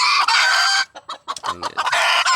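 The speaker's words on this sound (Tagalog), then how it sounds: "papakain tayo ng ating mga alagang labuyo" Pet red junglefowl (labuyo) clucking loudly and close at feeding time, with a burst of sharp, rapid clucks and squawks breaking into a continuous raspy calling.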